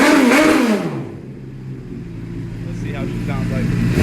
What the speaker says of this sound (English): Let's give it a rev, everybody.